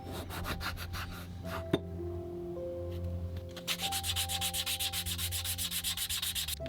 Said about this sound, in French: ensuite je viens les recouper au couteau et les poncer.